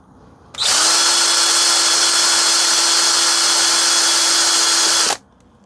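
Power drill boring vent holes into foam tires of a Team Corally SHIROI RC car, one steady loud whine running about four and a half seconds with an abrupt start and stop.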